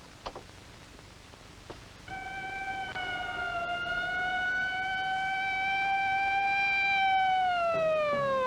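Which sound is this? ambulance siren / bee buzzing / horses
ambulance siren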